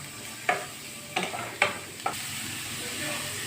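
Onions being stirred in a frying pan for a beef filling, a soft steady sizzle broken by four sharp scraping strokes of the spoon, close up with no talking.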